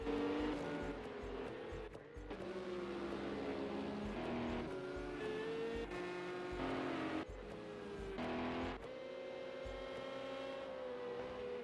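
GT3 race cars crossing the finish line in a sim racing game, engine notes rising and falling in steady tones with shifting pitch, loud and continuous with brief dips.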